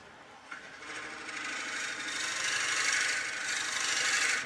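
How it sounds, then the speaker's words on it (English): A steady whirring hiss of wood spinning on a lathe while a tamper handle is turned, rising gradually in intensity, with a scraping, rasping texture and no talk. "Engage the drill again, turn on the lathe"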